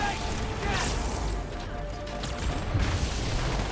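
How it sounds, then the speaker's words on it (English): Dense Halo 2 gameplay din of explosions and gunfire: a steady wash of rumbling blasts and crackling shots that keeps going the whole time, with a louder burst toward the end and voices mixed in. "I just hear lots of explosions."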